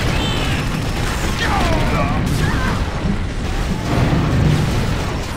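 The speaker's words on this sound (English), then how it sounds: "So many nades, man." Grenade explosions in Unreal Tournament 99 Assault come as a continuous wash of booms and weapon fire, dense and loud throughout, with casters talking over the chaos.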